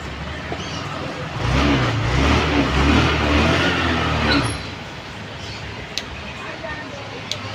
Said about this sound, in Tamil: சுவிட்சு மாற்றினோடனே கரெக்டாகவே ஸ்டார்ட் ஆகுது.